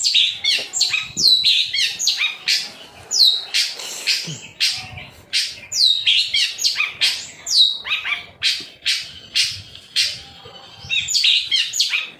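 A cendet, or long-tailed shrike, sings close and loud in repeated bursts of sharp chirps, whistles and harsh notes, with brief pauses between phrases and no voices.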